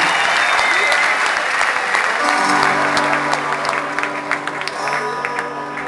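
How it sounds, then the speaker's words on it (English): A concert crowd at an Alter Bridge live show cheers and applauds for the guitar tech, a loud dense wash of clapping and shouting that settles slightly while sustained guitar tones ring underneath. "I want you guys to make some noise for my guitar tech."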